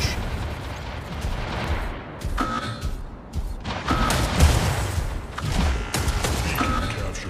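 Incoming weapon fire from mechs in Mech Arena, a dense stream of thudding shots and booming impacts, steady and moderately loud, with a few brief tonal alert sounds mixed in.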